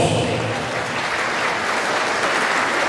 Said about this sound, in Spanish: Para todos ellos, aplausos.